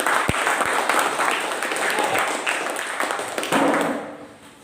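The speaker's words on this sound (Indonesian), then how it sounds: "Kita berikan aplaus untuk kelompok." A classroom group gets applause from the class after presenting, with a steady wash of clapping that fills the room and fades toward the end, a few sharper taps standing out near the start.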